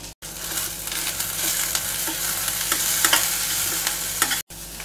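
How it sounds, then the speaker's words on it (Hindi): Chili flakes, black pepper, green chili, mixed herbs and salt stirred in a hot pan for a veg frankie filling, a continuous close sizzle with repeated scraping strokes of the spoon, no voices. "स्वाद अनुसार हम नमक डालेंगे और सबको अच्छी तरह से हिला दें।"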